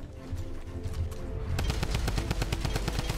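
Rapid automatic gunfire in the video game Fortnite during a one-on-one match, a quieter stretch giving way to a dense, loud run of sharp shots in quick succession.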